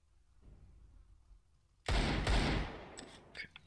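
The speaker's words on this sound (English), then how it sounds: "I am throwing a flashbang." A flashbang grenade goes off in a first-person shooter game after a quiet lead-in, a sudden loud burst followed by sharp crackling reports and fading clicks.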